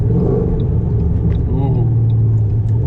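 Coyote V8 in a 2007 Mustang GT rumbles and revs at low volume, a deep steady growl under continuous talk with no hard acceleration.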